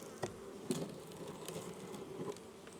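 Honey bees from a swarm box colony buzz steadily around a tree as foragers return, a dense close drone with a few louder passes of single bees near the microphone.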